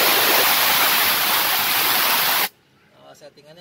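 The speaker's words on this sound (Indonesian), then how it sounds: "Ini kalau ditarik ya di sekitar 150 PSI akan keluar sendiri anginnya." Compressed air from a Shark air compressor at about 150 PSI hisses out in a loud, steady broadband rush, cutting off abruptly after a couple of seconds, followed by quiet speech.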